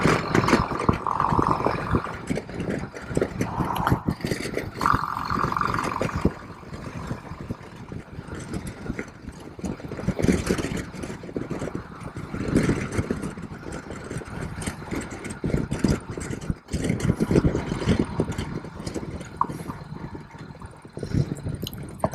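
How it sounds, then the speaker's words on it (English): A motorcycle engine runs for a sustained stretch while the bike is ridden, its drone rising and falling with throttle under steady wind rush, loud and close, with no speech. "I'm gonna kind of shut up right now just so you can see how the bike sounds."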